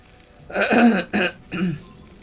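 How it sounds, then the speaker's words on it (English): A commentator's throat clearing during a StarCraft Remastered broadcast, while he is suffering a cold: three close, loud bursts in quick succession with a short gap before the last. "Let me clear my throat."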